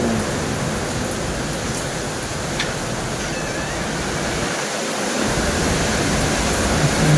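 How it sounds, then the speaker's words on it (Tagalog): Heavy rain pours outside a resort, a dense, steady roar of water that holds at the same level throughout with no voices over it. "Grabe ulan sa labas guys"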